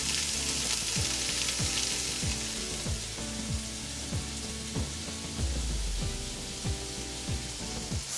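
Green and yellow bell peppers and other vegetables sizzle and fry in a pan for chili, a steady crackling hiss with repeated scraping stirs at a near, even level and no talking.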